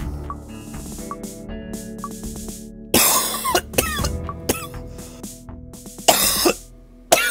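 A person coughs repeatedly in sharp, loud bursts with pauses between them, some harsh and throaty, standing alone over a quiet background.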